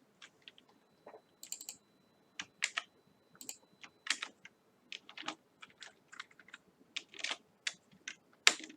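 Close, fairly quiet typing of code on a computer keyboard, irregular bursts of clicky keystrokes separated by short pauses, with no voices.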